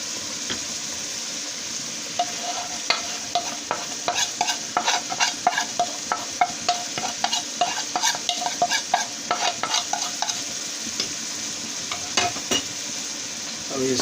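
Chicken with ground coriander, cumin powder, turmeric and salt sizzling and frying in a pan while being stirred for Lahori murgh chanay, with steady close hiss and frequent scraping stir strokes throughout.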